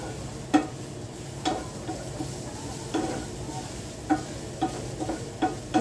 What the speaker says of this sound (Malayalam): അതിൻ്റെ ഈ പച്ച ഇതൊന്ന് മാറുന്നതും വരെ നമുക്കൊന്ന് ഇളക്കി കൊടുക്കാവേ